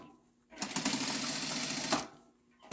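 An automatic sewing machine, the kind that locks and trims its own thread, runs in one steady, loud burst of fast stitching that lasts about a second and a half and starts and stops abruptly, with quiet on either side.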